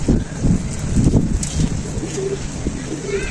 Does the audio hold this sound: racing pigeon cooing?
yes